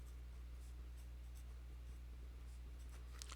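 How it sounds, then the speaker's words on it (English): Marker or chalk scratches and taps softly on a board during a math lesson, faint strokes under a steady low electrical hum. "I'll write that right here."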